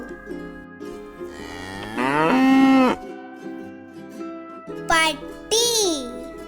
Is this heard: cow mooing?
yes